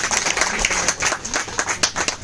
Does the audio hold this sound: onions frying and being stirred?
no